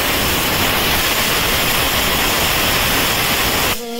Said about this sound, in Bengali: এখন বেগুন ভাজা হচ্ছে।